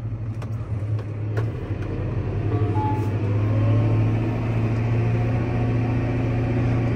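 Vibratory compactor rolling over a freshly graded surface: a continuous, loud engine drone with a steady low hum and rumble that builds slightly as it moves along.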